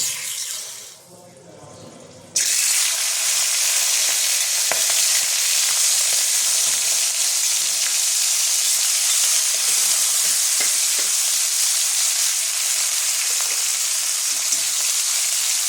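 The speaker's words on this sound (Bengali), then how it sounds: "দেখো এবার আমি চিংড়ি মাছগুলো ভেজে নেবো।" Prawns fry in hot, smoking oil with a loud, steady, dense sizzle that starts abruptly after a brief quieter moment and holds at close range, broken by occasional stirring clicks.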